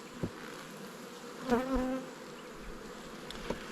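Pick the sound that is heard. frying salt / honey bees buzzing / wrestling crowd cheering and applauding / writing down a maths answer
honey bees buzzing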